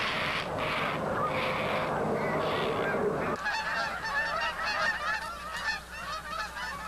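A flock of sleepy geese honking steadily and close at hand, dense overlapping calls for the first half, then thinner, scattered honks continuing over a quieter background.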